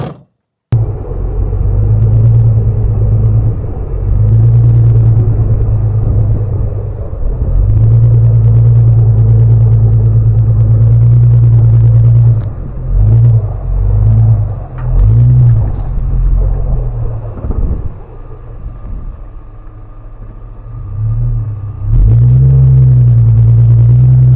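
A Toyota FJ Cruiser drives off a river sandbar on aired-down tires, its engine a loud, close, continuous low rumble that swells and dips with throttle changes over the whole stretch.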